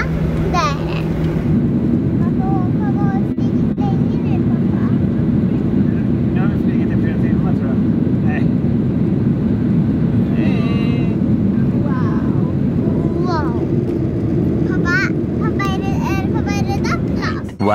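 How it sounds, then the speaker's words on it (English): Steady loud low-frequency roar inside a passenger plane cabin, constant drone with faint chatter and occasional soft voices in the background. "So we're right now inside of the aircraft."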